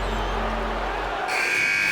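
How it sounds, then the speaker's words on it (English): A final buzzer sounds in NBA 2K21 basketball gameplay, a loud sustained tone over steady crowd noise in the arena, cutting off abruptly before a brighter tone takes over. "And that's the final buzzer"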